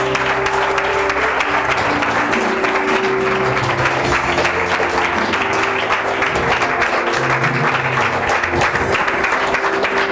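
A church congregation claps loudly and continuously in praise of the Lord, dense steady applause filling the room for the whole stretch, with a musical tone sounding faintly beneath.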